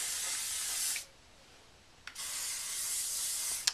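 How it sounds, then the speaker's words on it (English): Hairspray hisses from an aerosol can onto hair in two close bursts, the first about a second long and the second longer, with a quiet gap between. "You want to get your hairspray and do the exact same thing we did"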